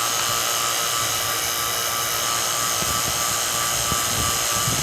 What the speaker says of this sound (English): we're vacuuming the system again